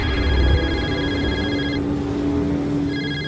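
A mobile phone rings in an Urdu/Hindi horror audio story, a steady electronic ringtone that cuts off for about a second and then resumes over a low background hum.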